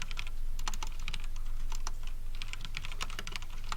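Rapid, steady typing on a normal computer keyboard, with dense clattering keystrokes in uneven bursts, close and clear over a constant low electrical hum, with no speech.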